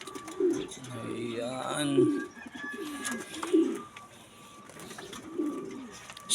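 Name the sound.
breeder pigeons cooing in a loft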